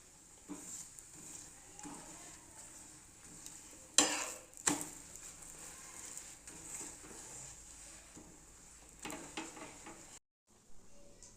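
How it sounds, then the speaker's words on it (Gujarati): Methi thepla roasting on an oiled pan gives a soft, steady sizzle throughout, with a couple of sharper clatters near the middle as the flatbread is pressed or turned. No one speaks. "હવે થોડું તેલ લગાવીશું અને બરાબર શેકી લઈશું"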